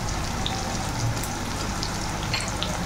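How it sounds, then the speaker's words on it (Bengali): Turmeric and Kashmiri chili powder fry in a pan for a Bengali kachur loti and dried shrimp dish, giving a soft, continuous sizzle and crackle with a few faint pops. "এখন ভালো করে এই মশলাগুলোকে কষিয়ে নেব।"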